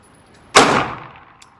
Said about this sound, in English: Just the fact you're shooting a military gun.